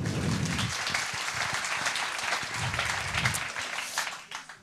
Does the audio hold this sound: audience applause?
yes